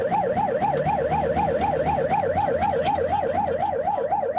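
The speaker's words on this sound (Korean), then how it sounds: "그로부터 보름 뒤 장정숙 할머니가 구급차에 실려 병원으로 후송됐습니다." An ambulance siren wails in a fast, regular up-and-down pattern, loud and close, with road traffic rumbling underneath.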